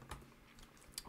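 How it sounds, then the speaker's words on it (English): Keys clatter on a computer keyboard as a command is typed into the Windows Command Prompt, a short burst of quiet, close taps with no talking. "we're going to be switching to our project by typing cd"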